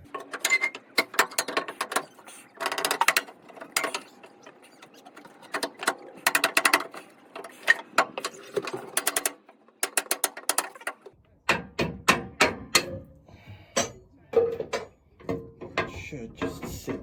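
A locking mechanism being fitted into place, giving a close series of irregular mechanical clicks, clacks and ratcheting snaps, with short pauses between bursts.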